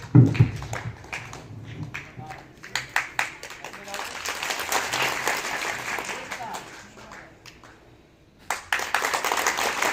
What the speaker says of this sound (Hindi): अब आपको क्या करना है, ताली बजानी है।